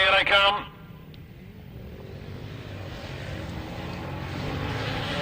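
Grasstrack sidecar outfits roaring off the start line in a race, a loud sustained engine drone building steadily after a brief burst of announcer talk at the start.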